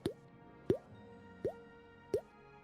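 Water drips slowly in a quiet space, four distinct plopping drops spaced about two-thirds of a second apart, clear and close, with no talking.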